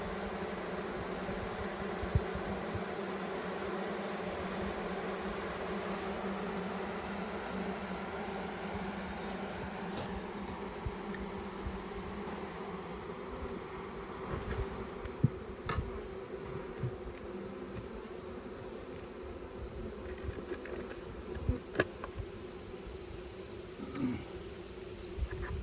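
A steady, dense buzzing hum of many honeybees fanning, continuous and close, with faint ticks and bumps scattered through.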